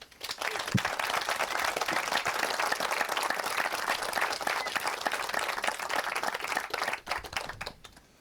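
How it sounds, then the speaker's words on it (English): Following a film screening, an audience breaks into sustained applause of dense, even clapping that tapers off toward the end. "I'd like to give a big round of applause to these three."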